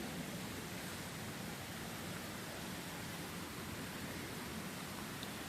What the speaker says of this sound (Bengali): বৃষ্টির কারণে পানিটা অনেক বেশি স্রোত নামতেছে পাহাড় থেকে